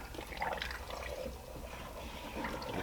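Water trickles and bubbles steadily as a boar skull sits submerged in a dye soaking bath, liquid seeping into the brain cavity with a soft, continuous gurgling close by.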